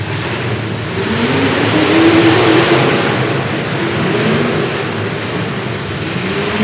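Superstock race cars launch off the start line at the 2020 Southern Nationals in Arcadia, Florida, a loud, steady engine roar swelling and holding across the whole stretch with a broad noisy wash and no talk.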